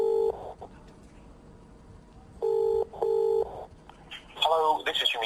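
Telephone keypad tones as a home answering machine number is dialed: short, steady paired beeps in separate bursts, then a brighter warbling tone near the end. Faint background noise sits underneath.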